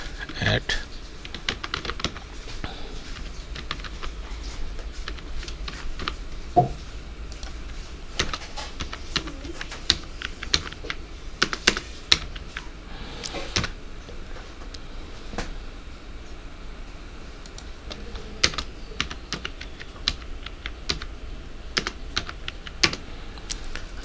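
Typing an email address on a computer keyboard, with irregular bursts of clicking key presses near the mic, some louder strokes standing out over low background noise.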